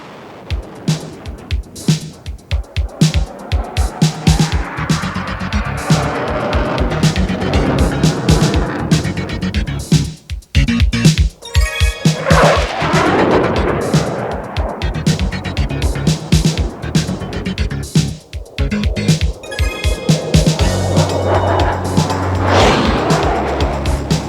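Airplane engines roar loudly and continuously as planes flare low over the main active runway at an air show, with surging, fluctuating power and brief dips, a busy, dense mechanical rush throughout.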